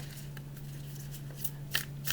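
Tarot cards being shuffled by hand, soft papery riffles with a few brisk flicks near the end over a low steady background hum, fairly quiet and close, no talk.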